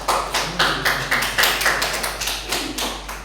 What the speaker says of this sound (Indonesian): Beri aplaus juga ya buat Tiara.